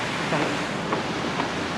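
Water pours steadily down a man-made waterfall at a scenic viewpoint, a continuous broad rushing hiss heard close and fairly loud throughout.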